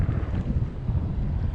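Strong sea wind buffets the microphone on an inflatable fishing boat off an island, a loud, close, continuous roar with gusty low rumbling and no voices.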